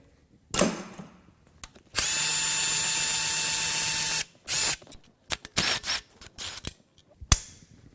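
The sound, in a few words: loosening BMW N54 engine timing chain tensioner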